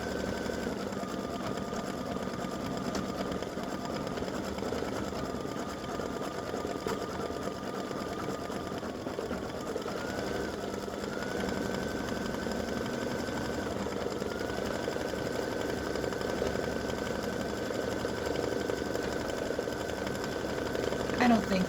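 A home machine embroidery unit stitches an appliqué dreidel design with a steady, continuous mechanical whir and needle rattle. It stays constant and fairly loud throughout, with a faint high tone wavering above it and occasional talking underneath.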